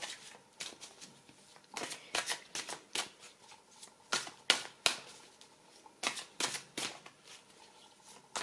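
Tarot cards being shuffled by hand in quick bursts of crisp riffling and flicking, close but fairly quiet, with short pauses between bursts.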